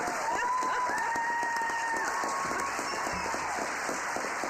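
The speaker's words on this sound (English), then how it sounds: "please stand up and give him a round of applause" Room-filling applause from a city council meeting audience, dense steady clapping held at an even level throughout, with faint cheering mixed in.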